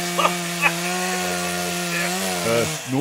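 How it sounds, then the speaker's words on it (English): A chainsaw runs steadily at a high idle-to-mid rev, its buzzing drone holding level for a few seconds before the pitch rises briefly near the end, with faint knocks early on. "Fire up the chainsaw."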